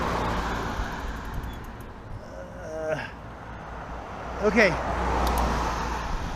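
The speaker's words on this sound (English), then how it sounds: "Cars." Cars pass on a road during a Memorial Day recumbent bike ride, making a steady, rumbling traffic noise that swells as vehicles go by, while a person speaks briefly.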